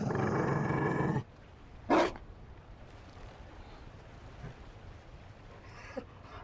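A Mabari war dog in the video game Dragon Age Inquisition gives a short growl and bark, heard faintly within the game's quiet ambient soundscape, with no talking.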